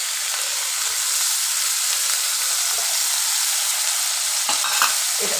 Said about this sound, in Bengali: এই পেঁয়াজটা বেশ ভাজা ভাজা হচ্ছে, এবার এই দইয়ের মিশ্রণটাকে ঢেলে দেবো।